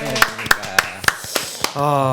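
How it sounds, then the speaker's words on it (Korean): A small studio audience greets a guest with sharp, separate claps spaced at an even beat, six or so in a row, before a voice takes over at the end. "박수로 환영하겠습니다"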